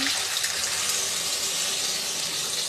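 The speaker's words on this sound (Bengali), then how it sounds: "জল দিয়ে দেবো" Water poured steadily into a potato curry in a cooking pot, a continuous close hiss and splash lasting the whole moment with no talk.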